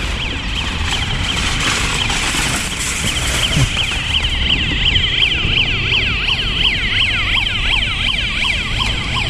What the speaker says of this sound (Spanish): Escuchamos la alarma del portón que está saliendo.